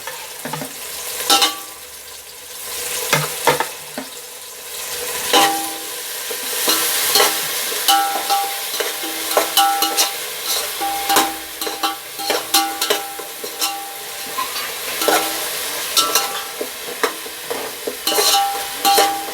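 Green chilli, garlic and ginger paste fries in a pan for mutton biryani, a continuous sizzle broken by frequent scraping and clinking spoon strokes against the metal, loud and close, with no talking.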